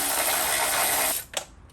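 A ratchet loosens a hood hinge bolt on a Mercedes R129 SL500, giving a steady, close whirring and clicking run that stops abruptly, followed by a brief metallic knock.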